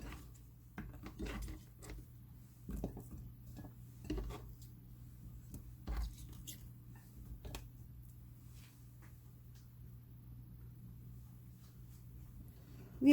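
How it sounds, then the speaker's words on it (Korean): Quiet, scattered light thuds and taps of radish slices being laid into a pot for spicy blue crab stew, irregular and close, with a faint steady hum beneath. "무를 냄비에 깔아주세요."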